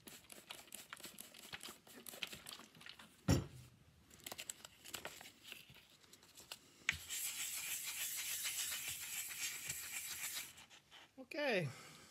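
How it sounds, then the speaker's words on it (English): Wet sanding with 1500-grit sandpaper on a Ludwig Vistalite drum shell: wet rubbing and gritty scraping strokes, patchy and close, then a sustained hissing stretch, with brief speech around it. "Same process, wet it and start sanding again."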